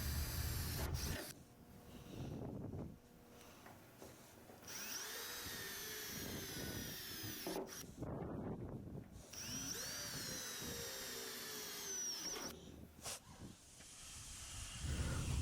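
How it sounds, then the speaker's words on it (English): A power drill bores 1/8 inch pilot holes in a truck bedside panel, bursts of high whining drilling with pauses and hissy air between, no voices. "I'm continuing to drill my 1/8 pilot holes."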